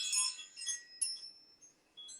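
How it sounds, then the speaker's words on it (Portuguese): A small bell rings out after being bumped, giving several faint, high, glassy chimes and tinkles that decay and recur across a quiet room. "Ele esbarrou no sino aqui."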